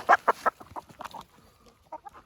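Village chickens and a rooster cluck close by, with a few loud sharp clucks at the start followed by softer, scattered clucking and calls.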